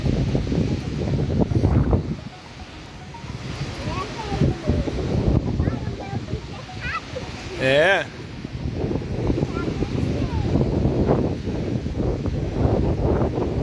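Cold wind gusts at Praia Gravatá beach in Navegantes, buffeting the microphone in a steady, rough rumble that swells and eases. A voice talks under it.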